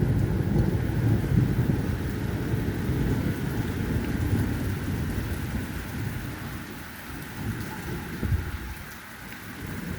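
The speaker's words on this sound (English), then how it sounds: "Ooh, thunder." Heavy rain falls steadily in Wilkesboro, North Carolina, a dense hiss of drops on surfaces with low rumbling thunder rolling underneath, easing slightly toward the end.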